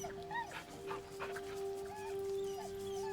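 A dog in the video game Baldur's Gate 3 whimpers while being petted: soft, high, wavering whines come in short bursts over a steady background tone.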